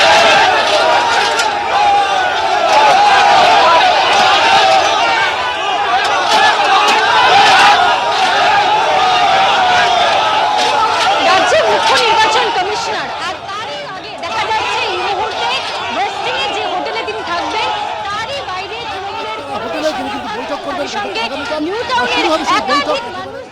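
A crowd of Trinamool protesters with black flags gathers outside a hotel in New Town, Kolkata, producing a loud, dense babble of overlapping voices and chatter that runs throughout, easing slightly partway through.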